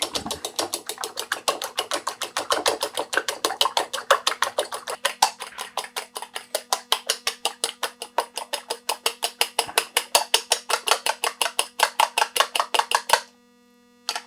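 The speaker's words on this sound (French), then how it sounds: "Je bats bien les œufs." Rapid, steady whisking of eggs in a bowl for a Cambodian fish amok, dozens of even clinking strokes in a fast rhythm, close and alone, stopping abruptly near the end.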